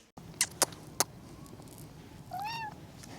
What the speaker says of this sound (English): just enjoy the little cat video at the end